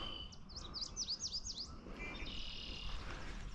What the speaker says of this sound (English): there's a yellow warbler singing right there